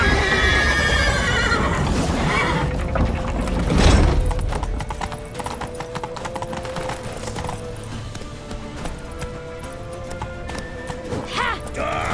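Horse hooves in The Witcher 3, steady rhythmic clip-clop of galloping with a loud whinny near the middle, under game music and sound effects, with voices shouting at times.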